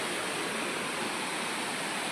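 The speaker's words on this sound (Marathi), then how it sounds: "तिकडून धबधबा वाहतो, तो मेन धबधबा आहे." A waterfall near a temple gives off a steady, dense rush of falling water, loud and unbroken, heard alone with no talk.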